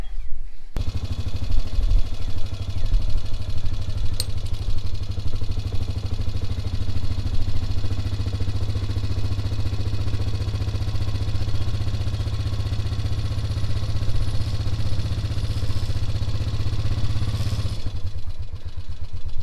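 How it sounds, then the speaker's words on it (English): A four-wheeler ATV engine runs steadily while pulling a New Holland baler belt backwards, a loud continuous mid-pitched drone with light clatter that cuts off near the end. "attach it to the four-wheeler, and then it'll pull backwards"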